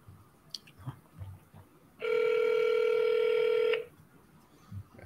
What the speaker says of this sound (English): I've never had a call that rang so much.